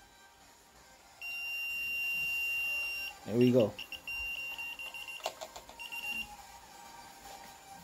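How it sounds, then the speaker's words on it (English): A brake fluid tester holds a steady electronic beep tone for about two seconds, followed by a brief spoken remark and faint clicking handling noises. "as you can see, it's beeping also."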